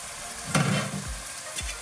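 Onions frying in a pan for a Bengali dry fish and doogi bhuna, with a steady sizzle and a couple of scraping stirs and knocks against the pan.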